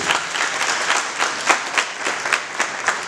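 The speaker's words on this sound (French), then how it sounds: "je vous demande de les applaudir." An audience at a graduation ceremony claps for the recipients, with dense, sustained applause from many hands filling the room at even strength throughout.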